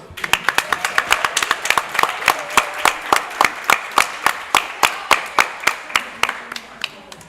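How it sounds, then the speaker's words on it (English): Applause at a homecoming high school soccer game for the varsity girls' team: a steady run of sharp, evenly spaced claps, fairly close and loud, continuing alone for several seconds. "Everyone stand up and give a big round of applause for our girls"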